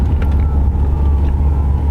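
A Fisker Karma electric car accelerating with 1,000 foot-pounds of torque and 400 horsepower, giving a steady, loud low rumble of road and motor noise throughout with no talk.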